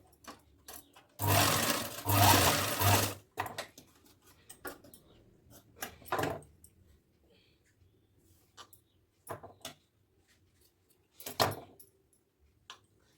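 An electric sewing machine stitching a 4-year-old child's churidar runs in one loud close burst of about two seconds, followed by scattered soft handling clicks and fabric movement.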